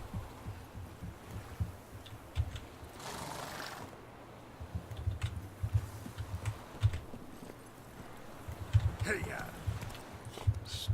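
Horse hooves clop in The Witcher 3 video game, a soft, low rhythmic thudding of a galloping horse running beneath someone talking over the gameplay, with other game sounds around it.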